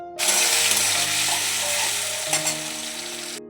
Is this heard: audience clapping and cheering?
no